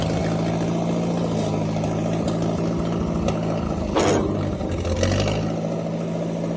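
An International 300 tractor engine runs on choke, a loud, steady, throaty idle with a slight surge and a couple of brief rough bursts partway through.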